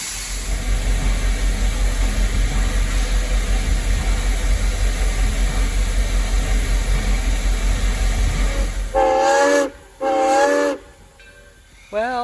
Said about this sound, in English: the train will back out and turn on the Y